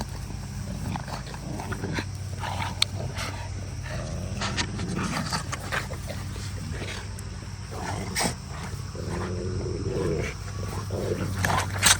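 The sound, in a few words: dogs during workout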